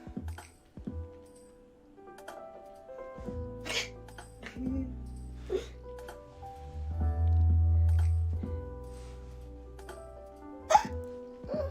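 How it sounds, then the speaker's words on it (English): Screechy little drunk hiccups come one at a time, sharp and close with irregular gaps, alongside breathy vocal sounds and a low rumble. "Oh, that hiccup sounded so screechy."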